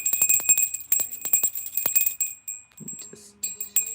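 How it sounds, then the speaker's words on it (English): A small hand bell is rung repeatedly in quick bursts of bright, ringing strikes that leave a sustained shimmering tone, followed by a few softer taps and clinks nearby. "let me just clear out the energy with my beautiful bell"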